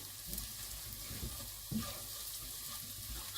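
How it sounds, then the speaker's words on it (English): Onion and a clove of garlic fry in a pan with a soft, steady sizzle, broken by a few quiet stirring scrapes and no voices. "We're going to fry up some onion, and we're adding a clove of garlic"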